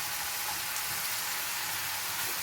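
Bacon sizzles and crackles steadily in a frying pan, a continuous bright hiss at close range with no talking over it.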